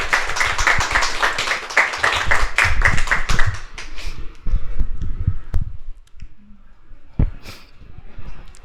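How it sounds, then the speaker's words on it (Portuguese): A small crowd claps at a comic book launch in a bookstore, with brisk, close, distinct hand claps for about four seconds before they thin into a few sparse, isolated claps and quiet room noise. "e uma salva de palmas."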